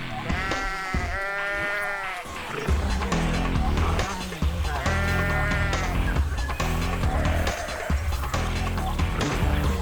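Several sheep bleat loudly in wavering cries while chased by dingoes in Australia, first in quick bursts, then again amid rumbling, scuffling noise and a busy, agitated background.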